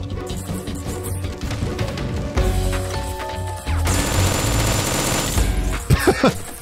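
Sustained exchanges of automatic gunfire and scattered impacts from the stealth action video game Metal Gear Solid 3, dense and loud throughout, with a brief lull midway and sharp bangs near the end.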